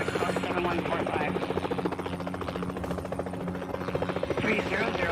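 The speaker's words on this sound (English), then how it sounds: "whenever I fly a helicopter in video games" Helicopter in the flight game Helicopter Simulator 2014: Search And Rescue, a steady rhythmic rotor thump with engine buzz, continuous and moderately loud throughout.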